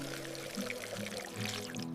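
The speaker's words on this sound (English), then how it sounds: "water the plants" Water pours steadily from a watering can onto garden plants, a soft continuous splashing trickle lasting a couple of seconds, faint and alone with no voices.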